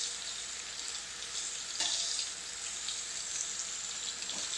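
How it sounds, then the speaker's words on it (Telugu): Chicken frying in a pan, a steady broadband sizzle that stays fairly loud and even throughout with a brief surge near the middle, no voices present. "చికెన్ కూడా ఫ్రై అవుతూ ఉంది"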